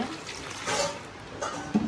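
Water poured into a cooking pot to boil fresh garden corn, a short splashing and gurgling pour that swells in the middle and then trails off, close by.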